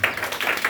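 Congregation applauding the Lord at a church service: a steady run of claps with three louder bursts spread across a short stretch, fairly close and lively, with no talk over it.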